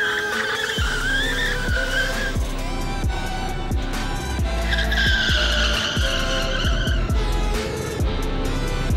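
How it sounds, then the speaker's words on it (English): EMOVE RoadRunner electric scooter in a braking test at around 23 to 24 mph, with a steady rushing ride noise, repeated sharp squealing tones rising and falling, and thumping impacts throughout, with no talk. "Here's some footage from our braking test."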